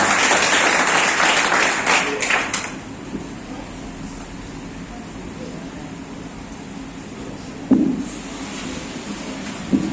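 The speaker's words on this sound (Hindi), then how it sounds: "जितराम सर के जोरदार तालियों से स्वागत करें।" Hearty applause at a Teacher's Day celebration welcoming Jitram sir to the stage, loud for a couple of seconds before thinning out into quiet room hum with a single thump later on.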